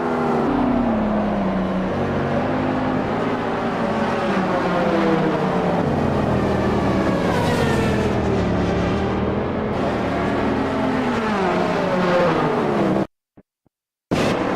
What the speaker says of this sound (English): Here's Norm Graff's pass on Lanny Hall in Hypercar AM